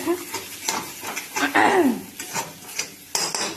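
A spatula scrapes and stirs thick fish curry masala for a Bengali fish jhal in a hot pan, giving repeated close-up scraping strokes over a soft sizzle, with a brief metallic clank near the end.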